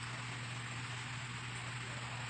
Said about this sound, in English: sorry for the background, it's raining.